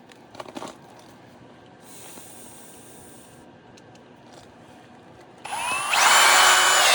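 A power drill driving screws whirs up loudly near the end, after a few seconds of quiet handling noises and light clicks.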